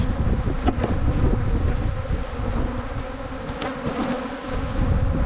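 Honey bees buzz densely around frames of brood in an open hive, a steady close swarming hum with wind brushing the microphone throughout.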